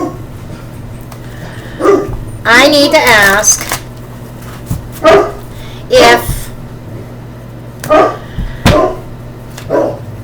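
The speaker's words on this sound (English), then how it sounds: "My dogs are going to go off, sorry. Because the mailman's at the door." Dogs bark in short loud bursts at a mail carrier arriving at the front door of a home, several separate barks spread across the clip, with a person talking over and between them.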